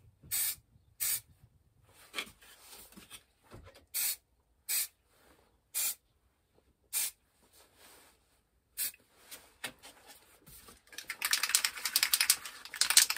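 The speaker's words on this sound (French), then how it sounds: "on applique le primer blanc" White primer sprayed from a spray can in short, sharp hissing bursts separated by silences, ending in a longer, denser hiss.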